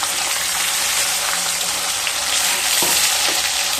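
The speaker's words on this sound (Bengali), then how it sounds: "গরম হয়ে গেছে, মাছগুলোকে ভেজে নেব।" Katla fish frying in hot oil in a pan, a steady loud hiss of sizzling with faint pops and a couple of brief clinks partway through, no voices present.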